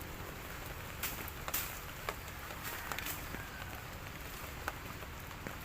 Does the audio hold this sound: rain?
yes